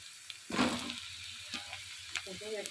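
Cut potatoes tumble into a pan of browned onions frying in oil, setting off a burst of loud sizzling that settles into a steady crackle, with a few clinks and scrapes of stirring near the end.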